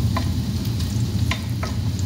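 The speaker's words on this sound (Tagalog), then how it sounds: "Habang pinatry natin yung ating garlic." Garlic frying in a pan alongside luncheon meat, giving a steady, close sizzle with a few light clicks of stirring and no talking.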